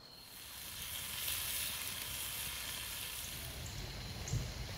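Soft, steady sizzle of food frying in small pans outdoors, faint and continuous with a few brief crackles and no talk.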